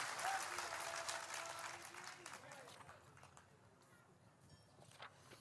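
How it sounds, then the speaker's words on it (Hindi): A temple-hall audience bursts into dense applause that carries on strongly for a couple of seconds and then thins out into scattered claps, with voices and room noise around it. "यदि आपको समझ में आ रहा है, अच्छा लग रहा है, तो ताली बजा दीजिए।"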